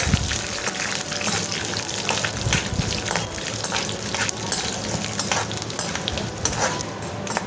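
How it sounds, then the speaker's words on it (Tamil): Ingredients for red rice poha sizzle and fry steadily in a pan, with a continuous crackling hiss and occasional stirring scrapes close by and no break for the whole stretch. "போட்டுட்டு நல்லா ஃப்ரை பண்ணி விட்டுருங்க"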